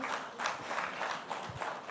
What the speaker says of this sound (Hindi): एक बार फिर से तालियां हो जाएं।